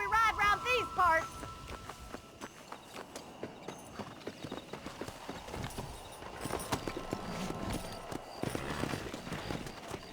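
Horses gallop in the Red Dead Redemption video game, a steady run of hoof clip-clops with a brief whinny at the start, heard under talking voices and game sound.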